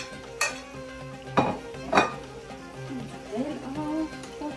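Rice being mixed into minced meat for dolma: a few sharp clinks of a utensil against the dish, then softer stirring and scraping, with faint voices in the background.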